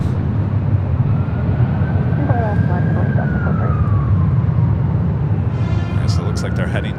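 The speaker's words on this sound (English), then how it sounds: "I think what we're hearing is an ambulance heading into LAX" An ambulance siren near LAX wails in a long, faint rising and falling sweep, distant beneath a heavy roar of aircraft and traffic, while people talk over it.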